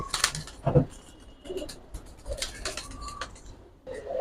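Giribaz and colouring pigeons at a pigeon market, with soft intermittent cooing and occasional wing flutters amid light background bustle.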